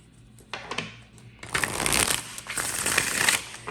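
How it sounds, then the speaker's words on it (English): A deck of tarot cards is shuffled by hand, heard up close as a few soft riffles and then a longer, louder run of fluttering card shuffles. "Okay, too many cards fell out. We're going to put these back and shuffle again."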